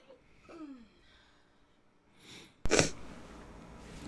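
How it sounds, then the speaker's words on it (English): After a few soft breathy gasps, a single sharp, loud sneeze bursts out close up, followed by a brief exhale. "Oh, I gotta sneeze."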